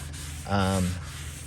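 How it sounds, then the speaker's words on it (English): A single short stroke of sandpaper rubbing across the rear fender of a 1930 Ford Model A Fordor, a brief gritty rasp that rises and fades within half a second. "Just rub it on there and then sand it off."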